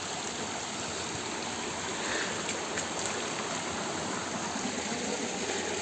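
Steady, dense rush of a cold stream flowing over a rocky bed, continuous and close, with no voices over it.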